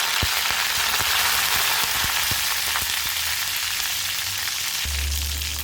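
Mustard seeds, urad dal, a dried chilli and curry leaves temper in hot oil, making a dense, continuous crackling sizzle with scattered sharp pops and a low thud near the end.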